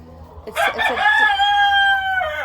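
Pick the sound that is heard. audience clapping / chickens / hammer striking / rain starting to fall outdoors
chickens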